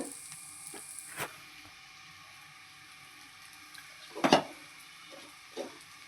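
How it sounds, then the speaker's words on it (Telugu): Curry leaves crackle in a pan for egg fried rice, a quiet low sizzle broken by a few sharp pops and stirring clatters, with no one speaking. "ఫైనల్గా కరివేపాకు సో ఇది ఇలా ఫ్రై అవుతున్నప్పుడు"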